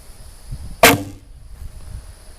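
A single arrow is shot from a Kainokai takedown recurve bow, a sharp close release snap followed by a brief whoosh that fades quickly into a quiet outdoor background.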